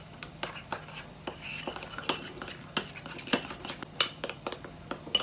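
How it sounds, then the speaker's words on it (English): A utensil stirs carrot mug cake batter in a mug, giving repeated close clinks and scrapes against the sides in an uneven rhythm. "Give it a mix."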